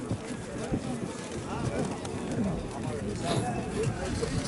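Pigeons cooing amid the crowd at an open-air pigeon and bird fair in Mykolaiv, with steady chatter and people talking throughout, the soft coos rising now and then above the hubbub.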